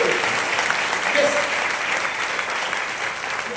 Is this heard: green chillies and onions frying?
no